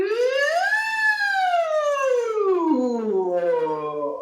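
A single voice imitates a siren, a smooth harmonic-rich tone gliding up from low to a peak and then sliding slowly back down, steady and close, with no other sounds.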